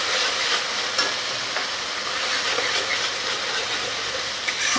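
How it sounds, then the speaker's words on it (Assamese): Spice paste sizzling in a pan for a peanut rohu fish curry, a continuous close hiss with occasional stirring scrapes and no talking. "আৰু এইখিনি মই অকণমান সময় এনেকৈ ভাজি ল'ম।"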